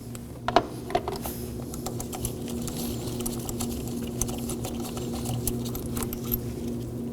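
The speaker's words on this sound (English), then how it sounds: "Remove the bottom bolt." A bolt is removed from the high pressure fuel pump of a 2014-2020 Acura MDX 3.5L V6, with quick light ratcheting clicks and small metallic taps, close and fairly quiet over a low hum.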